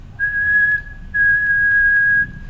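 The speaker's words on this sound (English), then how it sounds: "if I whistle you'll see some sine waves" A person whistles a clear, steady pure tone in two sustained notes, the second longer, with a brief gap between them, close and loud over a faint background hum.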